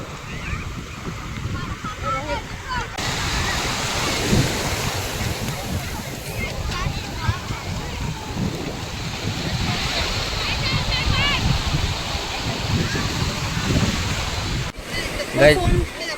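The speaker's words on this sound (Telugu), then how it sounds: "ఇంత పెద్ద అలలు వస్తున్నాయి ఇప్పుడైతే." Big ocean waves break and surge at a beach in strong wind that buffets the microphone, a loud continuous roar with people talking over it.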